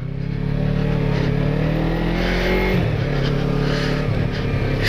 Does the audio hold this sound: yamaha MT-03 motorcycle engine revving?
yes